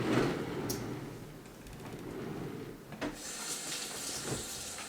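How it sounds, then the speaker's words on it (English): Water running from a sink tap while feet are washed under it, a steady close splashing stream with brief knocks and shifts in the flow, no talking. "I'm gonna roll over to the sink, and I'm gonna wash my feet"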